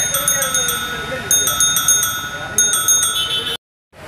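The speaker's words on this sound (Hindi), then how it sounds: "तो आइए पहले थोड़ी घंटी बजा लेते हैं" A small bicycle bell rings in quick bursts of repeated dings, several clusters in a row, bright and close, then cuts to silence.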